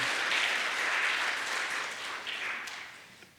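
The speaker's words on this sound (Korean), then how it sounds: "신바람 나는 찬양 다시 한번 박수로 감사드리십시다." A church congregation at a Sunday worship service claps in steady applause after a hymn, fairly loud and continuous, then slowly fading.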